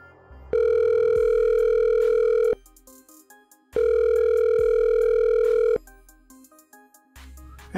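The outgoing call tone in the Ohho phone app plays two long, loud ringback pulses. Each lasts about two seconds, with quiet gaps between them, and no talk is heard.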